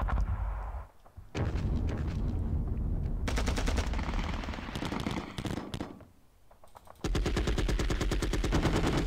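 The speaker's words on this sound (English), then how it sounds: "Machine gun unit. See if they can wipe it out." Bursts of machine gun fire in the Panzer Battles Kursk wargame, several loud rapid volleys with short gaps between them and no talking.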